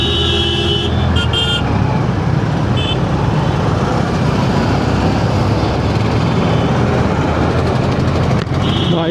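Car horns honk in heavy traffic on a newly built road, with a sustained horn at the start and another near the end over a constant loud roar of engines and road noise.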